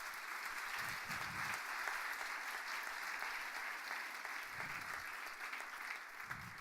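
Sustained applause from a church congregation, a steady dense wash of clapping filling the room from start to finish, with no talk over it.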